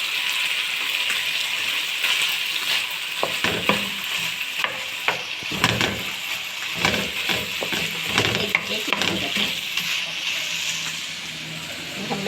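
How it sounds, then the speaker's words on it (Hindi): Carrots are stir-fried in a pan for chowmein, with a loud, continuous sizzle and frequent clattering stirs and scrapes throughout, close up. "अब हम वेजिटेबल्स डालेंगे। 1 बाय 1 पहले हम कैरेट डालेंगे"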